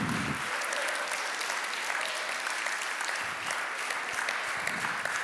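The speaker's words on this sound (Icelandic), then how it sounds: "Við verðum að halda áfram að klappa." A church congregation at a confirmation mass keeps up a dense, steady round of applause throughout, loud and continuous, with no speech over it.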